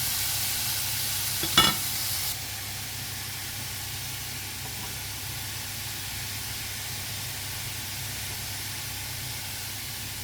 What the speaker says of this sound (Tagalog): Haluin na natin ang ating gulay mga kaibigan.